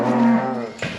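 A cow in a crowded farm pen lets out a single loud, close moo lasting about a second, with a deep tonal drone and a rougher tail at the end.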